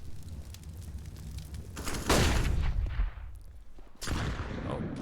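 Gunfire in Counter-Strike on the Dust2 map during an ESL Challenger League playoff match, a loud burst of shots then a second volley a couple of seconds later, close and sharp over background noise.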